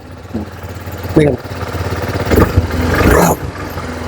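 A TVS Apache RTR 310 motorcycle starts on the self-starter in cold winter weather and settles into a steady, close, low idle. Someone talks loudly over the engine.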